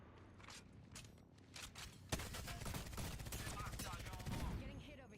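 Rapid, sustained automatic gunfire in Apex Legends tears into a wall, preceded by a few scattered shots, then a dense, continuous barrage at moderate distance.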